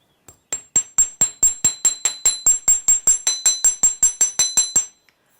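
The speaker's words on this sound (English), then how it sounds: "we're going to do that hammering, similar to the figure of 8 clasp, just to work harden" Hammer strikes wire laid on a metal block to work-harden it for a simple jewellery clasp, about nineteen sharp, ringing metallic taps in a steady, fairly quick rhythm, close and clear with no talking.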